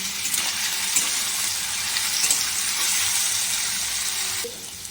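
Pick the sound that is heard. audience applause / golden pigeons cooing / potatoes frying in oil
potatoes frying in oil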